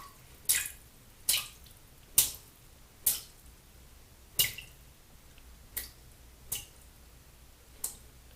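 Eight sharp drips of water squeezed from a wet synthetic shaving brush fall at a slow, fairly even pace, quiet and close, with near silence between them.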